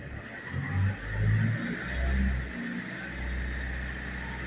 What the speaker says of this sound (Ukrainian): Зараз спробуємо перевести двигун у режим часткового навантаження, тобто дамо трохи газу.